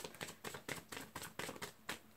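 Tarot cards being shuffled, a quiet, close series of crisp riffling bursts repeating in a fairly regular rhythm, with no talking.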